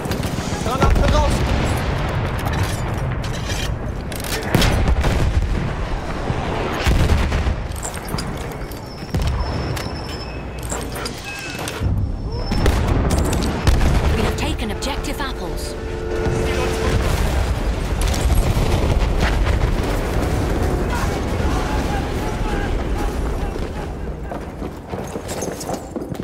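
Battlefield 1 combat: dense, continuous gunfire and booming grenade explosions fill a loud, chaotic battlefield, with voices calling out over the noise.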